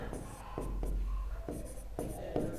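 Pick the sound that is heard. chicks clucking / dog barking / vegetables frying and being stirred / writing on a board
writing on a board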